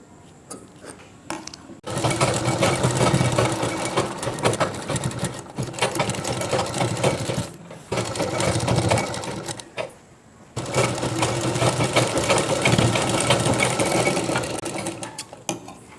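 A sewing machine stitches the collar neck of a chudidhar in long, steady motor-driven bursts, with brief pauses between runs.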